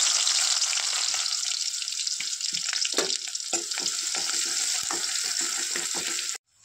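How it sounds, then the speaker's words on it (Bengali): Chopped onions fry in hot oil in a kadai, a loud continuous sizzle with scattered crackles and stirring clinks throughout before stopping at the end. "তেল গরম হয়ে গেলে দিয়ে দিচ্ছি পেঁয়াজ কুচি"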